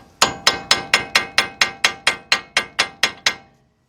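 Fourteen sharp metallic hammer strikes drive a wheel stud into the front hub of a 2006 Kia Sorento 4WD in a quick, even rhythm, each ringing briefly before the next, then stop.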